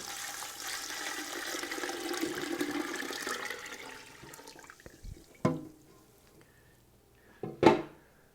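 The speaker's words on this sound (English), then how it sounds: "To this I'm going to add 1 gallon of water." A gallon of water poured over lemon, orange and lime rind in a pot: a steady rushing pour for about four seconds, then a few separate splashes and knocks.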